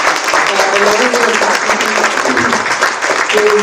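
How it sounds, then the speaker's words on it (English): Audience at the ICMC 2024 valedictory conference session breaks into sustained, dense applause, loud and steady throughout with a few faint voices mixed in. "the ICMC team, a big round of applause"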